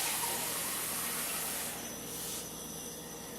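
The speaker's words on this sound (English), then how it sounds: "I'm going to put water in this." Water pours into a cup holding an avocado seed, a steady close rushing fill that softens and thins toward the end as the cup fills.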